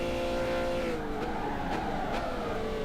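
A Peugeot 908 HDi FAP diesel prototype race car roars at high revs on the Circuit de la Sarthe, its engine note dropping as it brakes and downshifts into a chicane, loud and close throughout.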